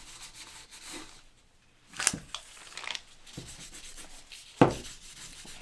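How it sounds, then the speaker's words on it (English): Soft cheesecloth rubbing and wiping stain onto a wooden surface, with a few sharper scuffs and knocks between the strokes, close up. "I've got a little bit of cheesecloth here"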